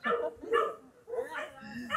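Several dogs bark and yip outdoors in quick bursts, moderately close, with a voice mixed in among the barks.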